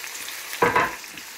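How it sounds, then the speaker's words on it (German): Finely diced onion goes into a hot pan with lightly seared veal sweetbreads, setting off a sudden burst of sizzling and stirring that flares for a moment and settles back to a quiet fry, with no talk. "Wenn das Kalbsbries so ein klein wenig angebraten ist, machen wir die klein gewürfelte Zwiebel dazu"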